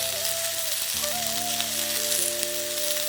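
Diced potatoes and tomatoes sizzle steadily in a hot oiled pan, a continuous close frying hiss with faint stirring scrapes and a low background hum, no voices.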